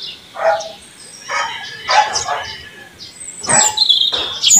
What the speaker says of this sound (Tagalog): ang ingay ng aso tuwing magbablog ako